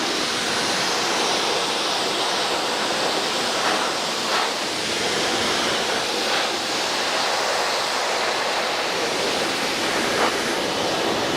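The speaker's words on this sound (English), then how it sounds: "I like the water sounds in the tub" Water running steadily into a bathtub, producing a loud, constant rushing hiss that stays even for the whole stretch with no speech over it.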